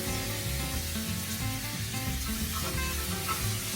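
Garlic and onion sizzle loudly and continuously in a hot pan for Mexican rice, a close, dense frying hiss with faint stirring noises underneath and no talk.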